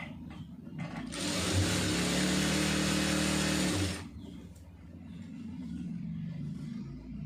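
Sewing machine stitching a folded fabric hem, a loud steady mechanical whir running for about three seconds before stopping, with quieter handling noises around it.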